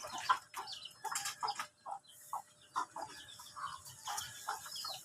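Chickens and chicks on a farm cluck and cheep in quick, irregular bursts, fairly close, with several birds calling over each other throughout.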